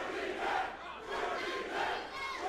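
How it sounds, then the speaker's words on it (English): A wrestling crowd at a Rob Van Dam versus Willie Mack match roars in dense, sustained waves, with dueling chants swelling and receding as the two sides of the arena trade support for the two wrestlers. "And the crowd's going crazy already, dueling chants."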